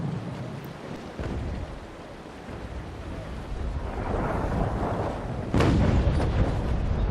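Heavy ship cannon broadsides in a Naval Action sea battle between a navy brig and the Cerberus, deep booming rumbles rolling out in waves, with a loud fresh blast near the end.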